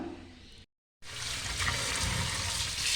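Tap water running steadily and loud, with a brief break early on, as raw chicken is washed for marinating in a home kitchen.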